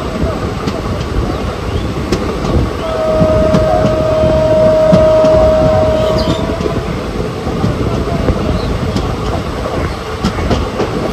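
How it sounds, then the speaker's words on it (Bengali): Night train bound for Puri, a steady low rumble of rolling stock with faint rhythmic rail clatter and a sustained wheel squeal partway through, continuous and fairly loud. "সত্যি কথা বলতে পুরীর ফার্স্ট টাইম আমার যে রাত্রিবেলা ট্রেনে ট্রাভেল করে যাচ্ছি।"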